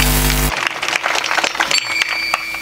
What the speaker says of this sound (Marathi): जोरदार टाळ्या गोपाळासाठी.